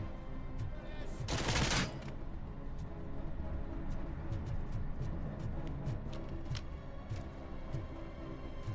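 Burst of gunfire in the video game Robocop: Rogue City, a loud crackling volley lasting under a second, followed by scattered sharp shots over steady background game sound.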